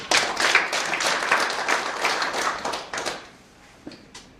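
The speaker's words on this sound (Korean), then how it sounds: "우리 하나님께 감사와 찬송과 영광의 박수 한번 드리겠습니다." Congregation at a Korean church thanksgiving service giving a round of applause, loud rapid clapping from many hands that thins and fades out after about three seconds, leaving a few scattered claps.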